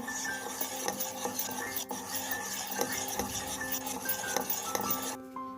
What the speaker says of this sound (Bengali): খুব ভালোভাবে ব্যাটারটি মিশিয়ে নিচ্ছি